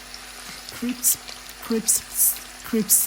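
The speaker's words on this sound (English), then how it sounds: "I started frying it. It does not take time because it's chicken breast." Chicken breast frying in a pan at home, a low steady sizzle under repeated bursts of close speech.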